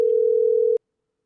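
A telephone line gives a single loud, steady electronic tone that holds for under a second and then cuts off into silence.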